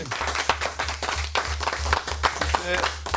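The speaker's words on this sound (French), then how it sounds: "j'aimerais qu'on l'applaudisse encore une fois Thomas Lécuyer." An audience at a French television studio show applauds a French film director, a steady patter of clapping with no pause, moderately loud, with a voice speaking over part of it.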